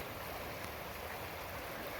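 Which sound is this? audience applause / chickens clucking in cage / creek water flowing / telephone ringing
creek water flowing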